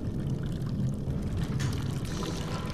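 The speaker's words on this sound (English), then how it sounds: "Someone flush the toilet." A toilet flushing in the Dead Space 2 video game, a steady rushing, pouring water sound running loud and close for the whole short stretch.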